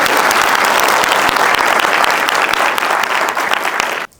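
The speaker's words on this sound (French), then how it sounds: "Et des applaudissements," Loud, dense audience applause at a film premiere of Juliette & Roméo fills the space steadily, then cuts off abruptly near the end.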